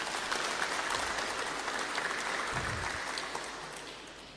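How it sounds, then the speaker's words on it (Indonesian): An audience at a West Java official's speech breaking into applause, a broad wash of many hands clapping that holds steady and then begins to fade toward the end, no voices over it. "Tepuk tangan dong untuk Jawa Barat."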